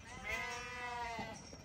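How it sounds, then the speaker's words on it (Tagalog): Pet sheep on a small organic farm bleat in a long, wavering call that rises and falls, fairly close and clear over faint background noise. "Ito yung mga alaga nating tupa na nakakatuwa din"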